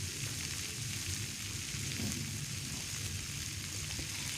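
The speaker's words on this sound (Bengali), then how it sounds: "পুঁই পিটুলি দেওয়ার পরে আবারও একটু আমি হলুদ আর লবণ দিয়ে সমস্ত কিছু ভালো করে আমি কষিয়ে নেব।" Puin pituli fried in a pan with turmeric and salt gives a faint, even sizzle that carries on steadily with no clear stirring strokes and no speech.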